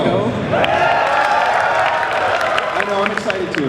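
A convention panel audience bursts into applause and cheering at a mention of Banjo, a dense clapping roar that holds steady throughout, with a voice talking over it.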